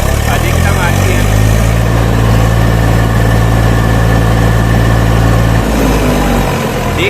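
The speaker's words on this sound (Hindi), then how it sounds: "वहीं यदि हम इस ट्रैक्टर के साउंड की बात कर लेते हैं" A 2021 Eicher 380 Super Plus tractor engine runs loud and close with a steady low rumble and constant mechanical vibration, then the pitch shifts slightly near the end.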